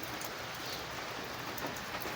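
Steady rain falling outside a house, a close, even patter of drops hissing across surfaces without pause.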